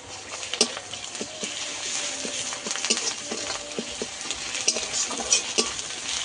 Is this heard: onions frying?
yes